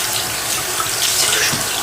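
Tap water runs steadily into a sink during face rinsing, a loud continuous hiss and splash close by with no pauses.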